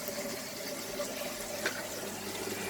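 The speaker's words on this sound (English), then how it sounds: "now, as you can see, the ball cock there is filling up slowly" An aquarium tank fills slowly with RO water through a ball cock valve, a steady close hiss of running water that stays even throughout, with one faint splash.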